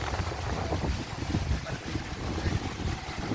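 Night surf on a sandy beach at Hat Sai Ri, a continuous low rolling wash of waves with wind buffeting the microphone, steady and fairly close, no voices.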